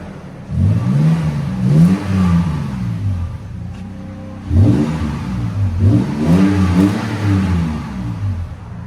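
A Toyota Tacoma 4.0L V6 with a MagnaFlow exhaust revs hard twice with a deep exhaust note, each burst rising and then settling back to a steady idle, close and loud.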